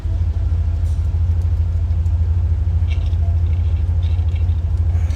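A 1957 Chevrolet Bel Air's engine idles steadily, a loud, continuous low rumble with no breaks and no voices over it.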